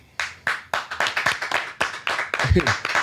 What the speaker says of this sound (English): Y'all don't be clapping for me like that.